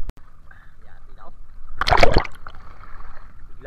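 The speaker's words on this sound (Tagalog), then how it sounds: "Biglang parang papalaki na yung alon" Sea waves slap and splash against a fishing boat in swelling open water, a loud burst of splashing rising in the middle over a steady wash of water and engine noise.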